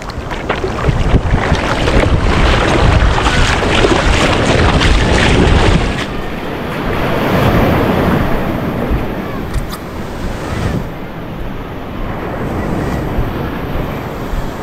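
Loud ocean surf rushes and crashes in continuous washes, mixed with gusty wind buffeting the microphone.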